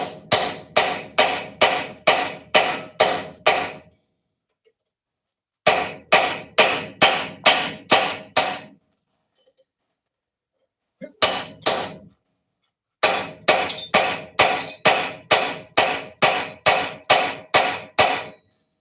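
A hammer strikes a homemade chisel in rapid bursts of about seven to ten sharp, ringing metallic blows, separated by short pauses. The blows are loud and close, with no talking.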